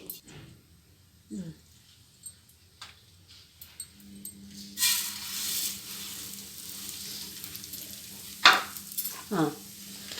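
Wheat semolina frying in ghee in a pan for laddu: a soft, steady sizzle rises partway through, with occasional scrapes and clinks of stirring, and faint sounds in the background.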